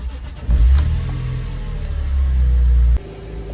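A BMW E46 M3 with SMG gearbox idles close by while warming up, a deep, steady engine rumble that swells briefly early on, then drops to a quieter idle near the end.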